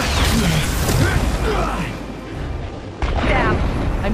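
A bomb explosion in the video game Spider-Man PS4 booms loudly amid busy action noise, with a sudden blast partway through and voices talking over the din.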